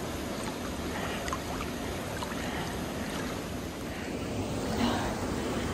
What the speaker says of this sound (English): There's a waterfall at the end and it's just absolutely beautiful.